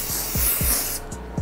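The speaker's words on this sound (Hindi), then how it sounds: "हम पूरे बालों में पहले हेयर स्प्रे कर देंगे" Hair spray hisses in short, steady bursts over a bride's hair during a wedding hairstyle session, close and loud, with the pump clicking between sprays.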